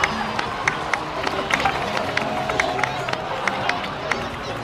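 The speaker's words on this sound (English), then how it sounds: "please give another round of applause for them" A crowd in the video game Genshin Impact applauds in a steady patter of clapping and cheering, with sharper claps popping out at intervals and voices murmuring throughout.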